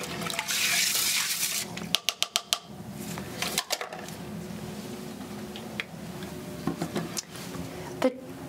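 A toilet bowl being cleaned with a brush and toilet bowl cleaner in a bathroom, giving close watery swishes, splashes and a run of quick scrubbing taps, with quieter gaps between bursts.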